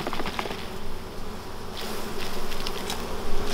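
Honey bees buzz around a hive frame during a queen replacement, a steady close drone of many insects, rising and falling slightly in loudness, with no voices.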